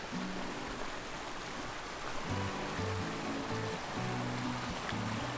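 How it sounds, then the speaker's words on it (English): Steady rushing of creek water cascading over rocks at Bridal Falls, a continuous broadband wash close by with no voices. "More cascading water. Just listen to that."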